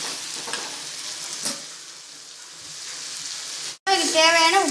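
Green peas and potato gravy sautéing in a pan give off a bright, steady sizzle with a brief stirring knock, then an abrupt cut into louder frying as a voice begins speaking.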